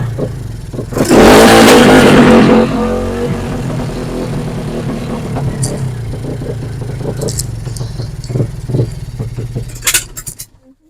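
A car exhaust tuned for rapid backfire lets out a loud, close engine rev, then a scatter of sharp popping crackles as it dies down.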